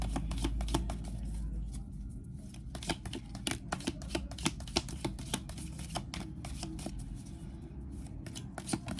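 Tarot cards are shuffled and pulled by hand, a close, quiet series of crisp riffling snaps and soft card slaps in irregular bursts throughout, with no talking.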